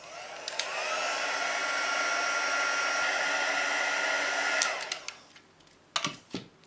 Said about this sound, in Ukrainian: далі я з феном для гарячого ембосінгу підсушую свій елемент